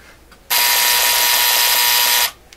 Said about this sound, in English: certainly sounds like an alarm